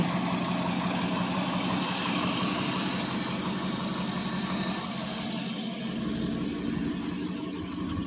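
A 1970 Ford F100's 390 FE V8 idles after sitting for about three years, giving a steady, rumbling low drone close by with no voices over it.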